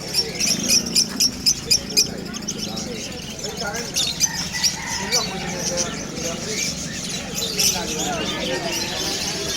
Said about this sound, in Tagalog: Ayan yung mga ibon ni Mr. C.